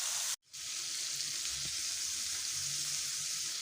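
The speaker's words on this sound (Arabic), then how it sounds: "هسيبه بقى يتقلي واوريه" Chopped onion frying in a pan, a steady loud sizzle that briefly cuts out near the start, then continues evenly close up without talk.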